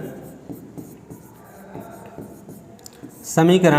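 Chalk or marker scratching out an equation on a classroom board during a Class 10 maths lesson on linear equations, a series of soft strokes and taps, with a teacher's voice speaking near the end.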